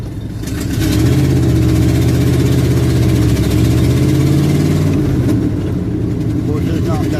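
A car engine idles steadily on a cold day as it warms up, a constant low rumble close by with a faint engine hum throughout and no clear revs.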